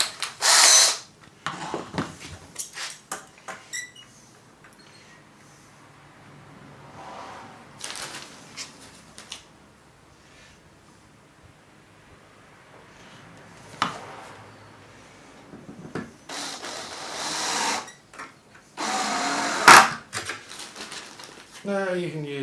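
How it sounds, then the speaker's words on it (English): A power drill drives drywall screws to mount hinges on retractable castors for a jointer, with a few short whirring bursts and ratcheting between pauses while someone talks. "I'm just going to use some drywall screws to do that."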